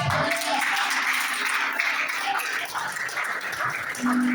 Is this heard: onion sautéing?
no